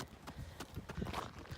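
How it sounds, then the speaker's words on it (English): Hooves clip-clop faintly on hard ground, a quiet, uneven series of soft knocks at a walking pace. "This your horse?"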